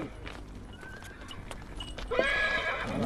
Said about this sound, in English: Usually these animals pull farm carts, but today they're war horses.